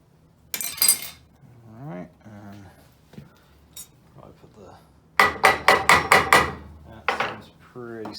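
Several sharp metallic hammer strikes ring out in quick succession, preceded by scattered clanks and handling noises, while fitting a Byrd Shelix cutterhead into a Felder AD741 jointer planer.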